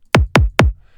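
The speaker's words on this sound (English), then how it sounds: "We've got 4 on the floor kicks." Three punchy four-on-the-floor house kick drums hit in an even, steady rhythm, each a loud, deep thump with a quick decay, alone with no other sounds.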